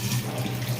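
Water runs from a kitchen tap while utensils are washed in the sink, a steady, close, continuous splashing stream.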